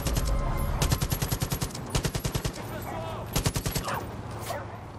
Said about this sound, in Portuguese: Tô tomando tiro aqui que eu não sei nem de onde que é.